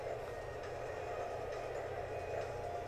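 A train moves along its track in a Nancy Drew adventure game, a faint, steady low rumble with a soft rolling hiss that continues evenly throughout, with no voices.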